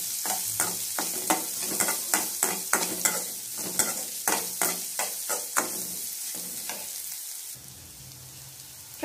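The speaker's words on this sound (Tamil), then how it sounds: "நல்லா வதக்கிக்கோங்க." Onions with curry leaves and urad dal sautéing in a pan for a Kerala-style banana stem thoran, steady close sizzle under a regular run of sharp spatula scrapes and stirs that eases off toward the end.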